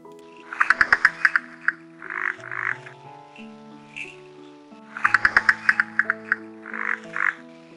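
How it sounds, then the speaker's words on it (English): Malabar gliding frog (Rhacophorus malabaricus) calling in the Western Ghats, two loud close bursts of rapid rhythmic clicking croaks, each followed by a few softer notes. "This is a spectrum of Rhacophorus malabaricus, the Malabar gliding frog."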